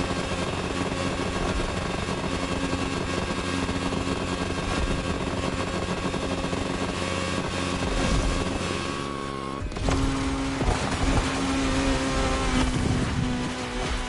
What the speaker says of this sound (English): I sure do love hearing my engine just maxing out.